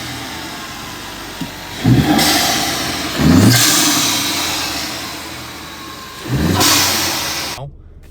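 A 2020 Ford Mustang engine with a new intake revs up sharply three times, each burst rising into a loud throaty roar with strong intake noise, then settling back to a rough idle.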